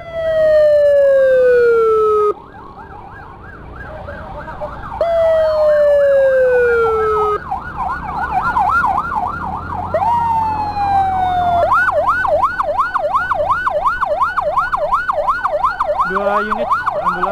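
An ambulance siren wails during a road escort, cycling between long falling tones and rapid, loud yelping sweeps that continue close by and unbroken.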